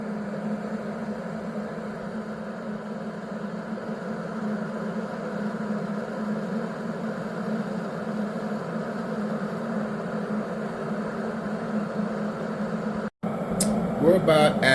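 A SUSTEAS 1500W cordless stainless electric kettle heating water gives a low, steady rumbling hum, close and fairly quiet, continuing unchanged for a long stretch before a sharp click and bubbling pops at the end.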